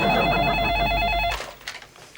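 Telephone bell ringing loudly and steadily for just over a second before cutting off abruptly, followed by faint indoor rustling.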